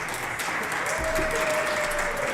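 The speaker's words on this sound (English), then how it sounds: "Can we get a round of applause for Prometheus?" A crowd at a live robot combat event claps and cheers in a dense, steady burst of applause that fills the whole moment, with faint voices mixed in.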